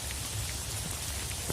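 Heavy rain pours down steadily in a village, a dense, continuous hiss of drops on surfaces, loud and close throughout with no speech.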